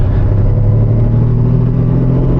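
Lamborghini Diablo engine pulling under acceleration while driving, a loud, steady low-pitched roar with a strong rumbling tone heard up close inside the car.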